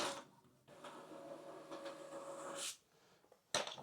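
An Epson printer runs through a page, a whirring mechanical feed hum lasting a couple of seconds, then a clunk, a pause and a final sharp clack, close and without speech.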